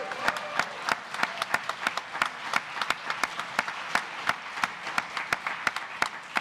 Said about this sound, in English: I'm just going to make sure that you all cheer here